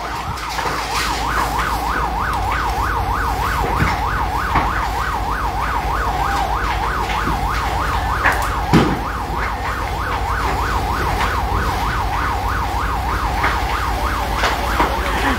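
Fire trucks arrive at a residential fire on New Sangi Road in Lapu-Lapu City, Cebu. A loud wailing siren cycles rapidly and continuously over rumbling road traffic, with a brief thump partway through.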